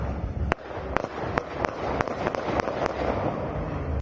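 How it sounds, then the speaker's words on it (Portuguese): More than ten sharp gunshots from police firing during a street chase, fired as distinct loud cracks at irregular intervals over a constant ambient roar, recorded by a passerby nearby. "No vídeo feito por uma pessoa que passava pelo local, é possível ouvir mais de 10 disparos."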